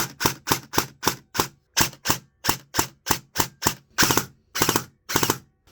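A Double Bell AKM4 airsoft rifle running on a 7.4V LiPo battery fires a string of rapid, evenly spaced mechanical cracks, close and loud, with the last few shots grouped into longer, denser bursts.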